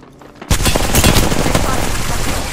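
Gunfire in Apex Legends bursts in abruptly after a brief quiet moment as loud, rapid automatic shots in a dense stream, with voices faintly beneath.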